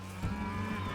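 A longhorn cow on a ranch gives a single sustained, low, droning moo, close and clear, lasting the whole second.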